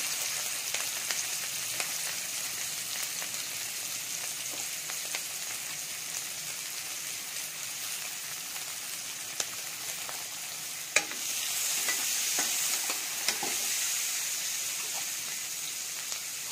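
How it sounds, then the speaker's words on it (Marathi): Capsicum and other vegetables frying in hot oil in a kadai, a steady close sizzle running throughout with scattered sharp crackles and occasional stirring scrapes, no voices. "आता आपलं तेल चांगलं गरम झालंय, त्याच्यामध्ये आता आपण भाज्या परतून घेणार आहोत."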